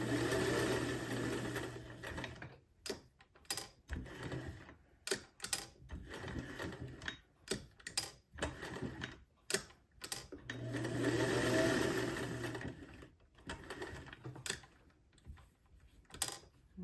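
A sewing machine stitches a sling bag, running in two longer whirring bursts separated by short pauses. Quiet clicking taps fill the gaps as the fabric is turned at corners. The sound is close, soft and unaccompanied by talk.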